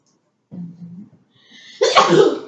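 A single loud sneeze close up in a classroom, preceded by a short sharp inhale and a muffled murmur.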